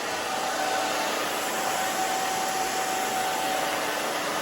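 A hair dryer blows steadily and loudly at close range while a short pixie cut is dried, a continuous even whoosh with a faint steady whine and no talking.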